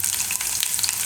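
Cumin and garlic fry in hot oil, a brief, dense and loud crackling sizzle with quick spitting pops, heard alone.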